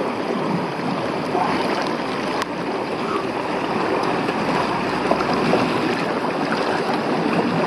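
Rushing stream water in the Okertal canyon during a canyoning trip, a steady broadband roar of churning water, loud and continuous, with no voices.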